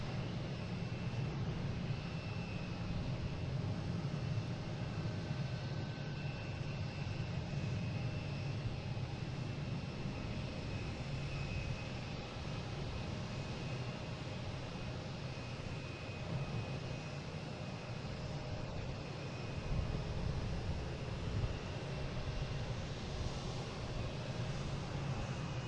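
An Air Canada Express CRJ regional jet departing Boston Logan, a continuous broad engine roar heard from a distance at steady loudness for the whole stretch, no talking.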